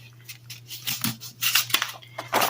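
Scissors snipping around a book page in a few short, close, crisp cuts with brief pauses between, no talking.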